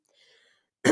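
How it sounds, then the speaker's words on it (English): A single short cough or throat clear from a yoga instructor, abrupt and close, arriving at the very end after near silence. "Sorry about my coughing today."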